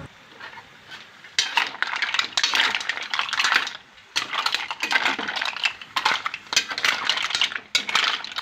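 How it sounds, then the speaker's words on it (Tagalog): Tinola mussel soup with ginger is stirred in a pot, the shells clattering and clinking against metal in loud, close bursts separated by brief pauses. "Haluin din natin yan para lumasa ng todo yung todo yung luya."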